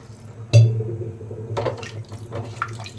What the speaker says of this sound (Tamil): நம்ம சிக்கன் வேகிற அளவுக்கு வந்து தண்ணி ஊற்றிக்கலாம்.